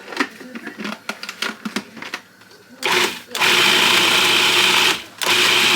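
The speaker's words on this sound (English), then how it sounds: "let's blend this up" A blender whirs through vegan ricotta, first sputtering in short bursts and then running loud and steady with a brief pause, after some kitchen clatter and talk.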